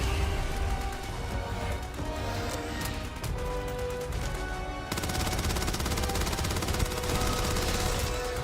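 Heavy weapon fire in Starfield rattles on in dense, continuous automatic bursts under a loud, busy combat mix, unbroken and close for the whole stretch.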